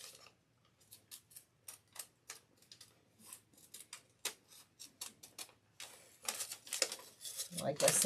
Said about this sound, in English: I'm cutting on the inside of the line